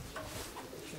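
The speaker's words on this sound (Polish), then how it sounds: "to jest mój gołąb" A racing pigeon coos softly in a short, low, throaty burble at a final race flight, with faint background noise around it.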